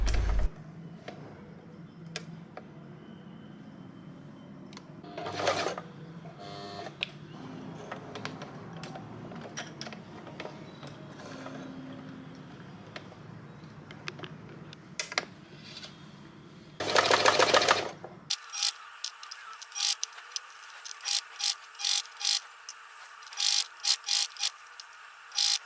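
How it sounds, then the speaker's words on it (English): A home sewing machine stitches a boat-neck top, turned partly by its hand wheel, giving irregular mechanical ticking and whirring that ends in a run of evenly spaced, close, sharp stitch bursts. "you can use the hand wheel to make one stitch at a time for better precision, and then pivot and continue sewing."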